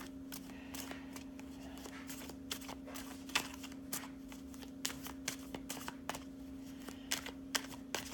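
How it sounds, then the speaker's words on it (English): Soft, close tarot card shuffling: quick papery riffles and light taps in irregular bursts over a faint steady hum, no talking. "I know I'm taking my time in shuffling, but it's because spirit is infusing these cards right now."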